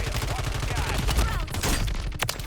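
Rapid bursts of automatic gunfire from the Call of Duty Warzone 3 video game, including the RAM-7 rifle, rattle loudly and almost continuously across the span, with dense overlapping shots and a sharp final report.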